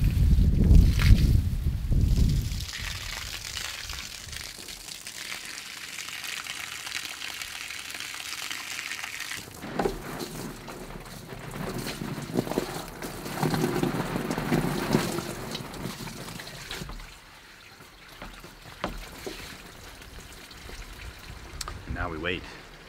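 A bathtub filling with water for a late-night ice bath, a steady rushing pour with a boomy, wind-like rumble, heard up close and continuous, with a person talking over parts of it.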